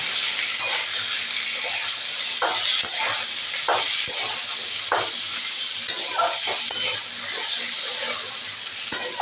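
Chunks of eggplant sizzle loudly in a pan for an aar fish curry with potato, a dense, steady frying hiss punctuated by repeated scraping clicks of stirring.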